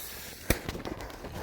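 Hero Pyro whistling rocket fireworks going off outdoors: one sharp loud crack followed by several smaller pops and crackles fading over a second or so, with no voices.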